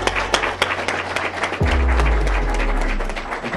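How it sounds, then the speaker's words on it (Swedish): Scattered applause rises for the energy heroes at Lugnets school, with uneven individual claps over a low hum, joined partway by a deeper droning tone. "Ska vi göra dem en applåd?"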